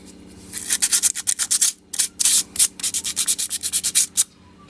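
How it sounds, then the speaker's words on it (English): Sandpaper is rubbed by hand over a part from the cooling system of a KN/KQ Ford Laser or BJ Mazda 323, giving close, loud rasping strokes in a quick, fairly even rhythm with a short pause partway. "give it the same sandpaper treatment as well"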